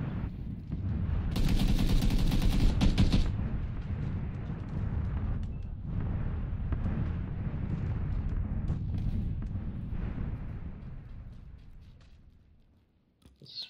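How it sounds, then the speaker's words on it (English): Shotgun fire in a video game, with a burst of dense, loud blasts early on, then rumbling, crackling combat noise that gradually fades toward near silence. "where did that shotgun come from?"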